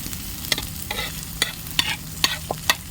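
Onion and green chilli sauté in oil for a prawn fry, with a soft sizzle underneath and sharp, regular scrapes of a spoon against the pan about every half second.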